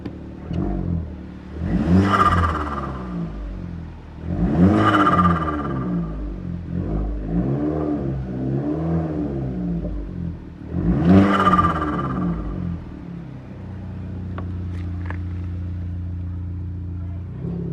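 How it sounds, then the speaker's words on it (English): A Vauxhall Corsa D VXR engine idles with a low rumble after a thermostat housing fix, then revs up sharply three times, each surge rising and falling back to a steady idle. "let's give it a little rev."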